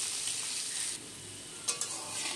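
Marinated potato pieces fry in a pan while being turned until lightly browned, giving a soft, steady sizzle with a couple of brief stirring clinks near the end.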